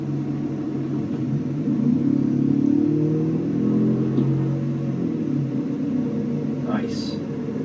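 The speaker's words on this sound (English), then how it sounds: "I kind of want to test kickdown here on this 8-speed." Engine and drivetrain rumble from a 2024 Toyota Tacoma TRD Pro pickup with an 8-speed automatic, rising under a kickdown acceleration and holding a steady, loud drone throughout the interior.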